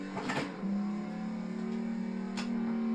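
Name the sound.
car accelerating into a drift turn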